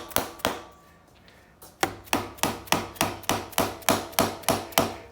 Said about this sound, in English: I just need a rubber mallet.